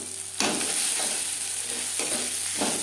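Onion, tomato and peas fry in a hot pan with a continuous close sizzle, while a spatula stirs them in two or three distinct scraping strokes.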